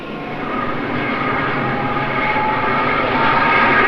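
Britain's Concorde 002 prototype airliner taxiing toward runway 28 ahead of its first flight in 1969, a steady, loud broadband jet roar that builds slightly over a few seconds with no voices.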